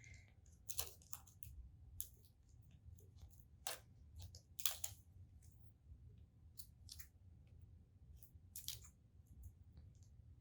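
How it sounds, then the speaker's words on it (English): Scissors snip off excess tape in a series of sharp, irregular cuts and clicks, fairly close and quiet, over a low hum with no talking. "I'm just going to trim that off with the scissors."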